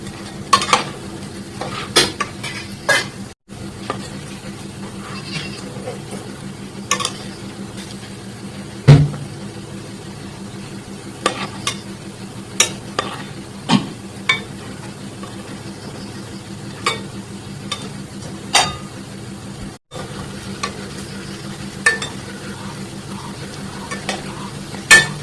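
Food frying in a pan while being stirred until reddish-brown for a homemade two-ingredient sweet, with a steady soft sizzle and repeated sharp scrapes and knocks of a utensil against the pan.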